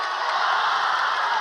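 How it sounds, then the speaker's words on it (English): A gym crowd at a high school basketball game roars and cheers steadily in a dense, continuous wash of voices, fairly loud, with no distinct single shouts standing out. "Crowd are loving it."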